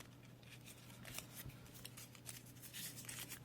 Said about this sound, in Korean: 그리고 가위질